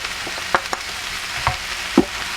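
Cooked beef frying in a pan with added sugar and mustard, a steady close sizzle with a few scraping stirs breaking through.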